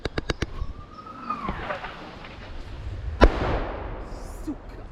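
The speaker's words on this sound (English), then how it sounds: "a lot of mortar fire is coming in on us" Mortar fire at a river crossing during a military recon, with a few sharp cracks at the start and one strong distant blast with a rumbling tail, mixed with faint background noise and a little talk.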